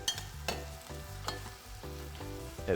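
Onions and lamb sizzle and crackle in a pot close up for a fruity lamb stew, with occasional scraping stirs and a faint musical tone in the background.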